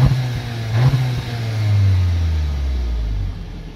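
Skoda Octavia RS 245 in sport mode revving its engine: a loud, close, deep rising roar that swells, holds, and then slowly settles back down, with no voices.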